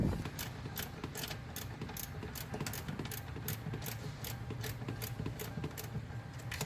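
Tightening a metal hose clamp on a radiator hose of a 1996 Toyota Corolla, giving a steady run of rapid ratcheting clicks close by, with no one talking.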